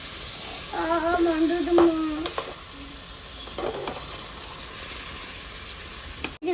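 Food frying in a pan gives a steady, close sizzle and hiss throughout, with a few stirring clinks, while someone talks briefly over it.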